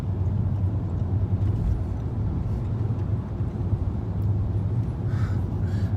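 The engine of a 2007 twin-turbo BMW 328i fitted with a bigger-displacement 6.2, heard as a deep, continuous low rumble that stays fairly steady throughout with no talking.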